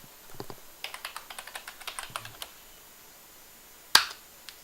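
Password being typed on a computer keyboard while installing Debian: a quick run of about a dozen light, crisp key clicks, then a single louder keystroke like Enter after a short pause, close and otherwise quiet.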